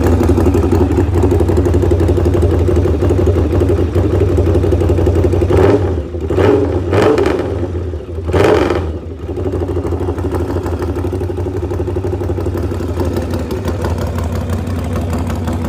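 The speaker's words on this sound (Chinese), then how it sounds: "视频最后听一下突击队发动机声浪" A Norton Commando 961 motorcycle engine runs steadily and loudly up close, with a thick, throbbing note and a few brief dips and blips midway before settling back to an even rumble.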